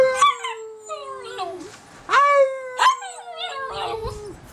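A dog howls in several long, rising and falling wavering tones with brief yips between them, close and fairly loud, with no talk over it.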